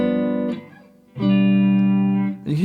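Blues guitar alternating between two chord shapes, sustained strummed chords ringing out with a short gap between them, clear and close with no voices.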